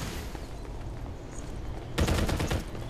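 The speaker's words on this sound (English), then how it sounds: "I'm exchanging fire." Rapid bursts of automatic gunfire trade back and forth in a Farlight 84 firefight, dense and continuous, swelling louder and harsher in the final second, with no talking.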